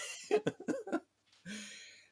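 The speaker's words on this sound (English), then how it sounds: "I'm coughing." A person coughs several times in a quick burst of harsh, rough hacks, then a short pause followed by a drawn-out wheezy breath or throat sound, close to the microphone indoors.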